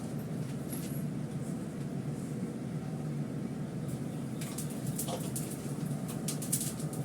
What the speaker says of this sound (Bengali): অরহর ডালে আমি শুকনো লঙ্কা ফোড়ন দিচ্ছি